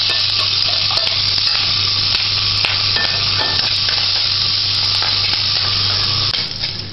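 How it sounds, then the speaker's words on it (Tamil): Dried red chillies and curry leaves sizzle loudly in hot oil, a dense continuous crackling hiss with occasional stirring clinks, fading slightly at the end. "இந்த மாதிரி வத்தல் கருவேப்பிலை போட்டு தாளிச்சுட்டு"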